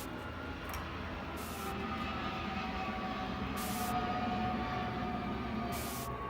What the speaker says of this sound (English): listen to all the airplanes that happen to fly overhead